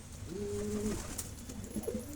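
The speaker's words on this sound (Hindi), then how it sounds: "ये कबूतर बिठा रखे हैं, झाड़ पाक करेंगे" Pigeons kept in a coop coo in soft, rounded calls, with two drawn-out coos close by and a quieter coo near the end, alone with no talk.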